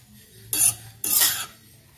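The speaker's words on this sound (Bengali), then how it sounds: "মিনিট খানেক বাদে আমি ঢাকাটা খুলছি" A metal lid comes off a pot of vegetable semolina pulao in two short, bright clanking scrapes about half a second apart, close and distinct against a faint low hum.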